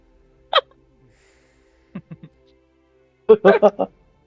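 A voice imitates hiccups, the kind meant to send a small flame from the mouth in a Dungeons & Dragons game, with one short hic, then a couple of quick softer ones and a louder burst of several at the end.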